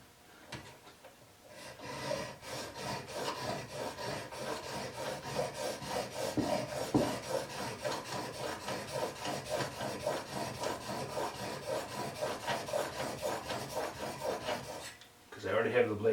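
A Stanley #45 plane blade rubs back and forth on a 1000 grit sharpening stone in steady, rhythmic rasping strokes that start after a quiet moment and stop abruptly near the end.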